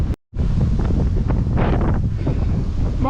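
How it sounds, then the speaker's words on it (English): A strong gale blows outdoors, making a loud, continuous roar and buffeting across the microphone, broken only by a brief dropout at the start. No one speaks. "It is blowing the gale out here."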